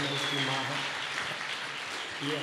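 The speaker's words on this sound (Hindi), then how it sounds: "तालियां बजा दो आयुर्वेद के चमत्कार का।" Audience applause at a health awareness program, a dense, steady patter of many hands clapping, mixed with a voice on a loudspeaker.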